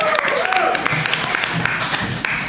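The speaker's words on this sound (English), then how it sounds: "Give her a round of applause for that, folks." An audience at a live Creepshow show breaks into applause, a burst of clapping from a crowd that fades back under a voice talking.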